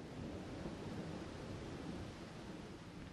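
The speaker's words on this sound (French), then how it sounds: "Le vent, la pluie, le tonnerre et les éclairs tous faisaient rage." A night thunderstorm with heavy, steady rain and wind roaring as a dense, continuous wash, deep thunder rumbling underneath throughout, with no voices.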